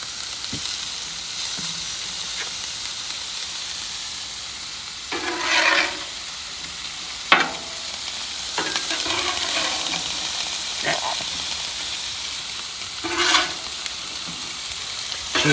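Kielbasa sizzles on a hot griddle with a steady frying hiss, punctuated by occasional louder spatters and scraping turns, close and continuous, no talk.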